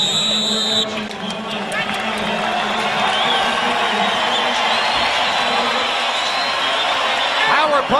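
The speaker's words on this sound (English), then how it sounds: "Crowd rises to applaud what they've seen so far" Boxing crowd at the Mayorga vs Forrest rematch cheering and applauding steadily, a loud dense roar with whoops and claps that swells near the end, with voices mixed throughout.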